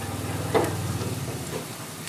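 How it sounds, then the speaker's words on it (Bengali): Coriander-leaf pakoras fry in oil over low heat, a soft, steady sizzle with a slight bubbling lift partway through, close by and without speech. "কম আগুনে ভাজতে হয়। কম আগুনে ভাজলে মচমচে হবে।"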